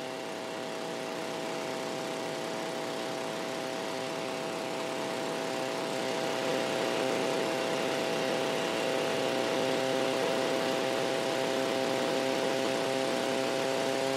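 Light aeroplane engine in flight, a steady droning hum with strong tonal harmonics that swells slightly louder as power increases, continuous and close throughout with no talk.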